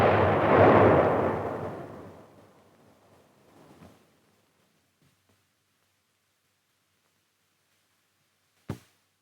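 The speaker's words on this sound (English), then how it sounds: "Then the charge is fired." A buried explosive charge blown to destroy an earthen tunnel, one deep booming blast that rolls and fades over a few seconds into silence, followed much later by one short sharp crack.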